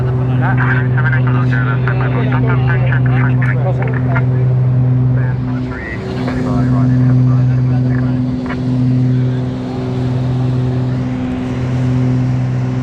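Aircraft in flight over the city near Treviso airport, a steady loud engine drone with a constant hum throughout, heard from inside the cabin while people talk over it.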